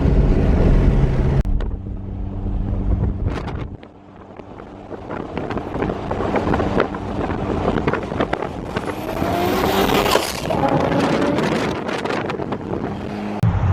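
A 400 kW all-wheel-drive Nissan R32 GTR V-spec II accelerates hard and close, its engine roaring through rising gears with a brief lift around the shift, and wind buffeting the microphone throughout.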